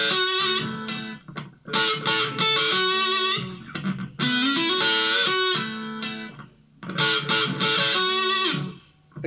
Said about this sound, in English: And I'll add a little distortion.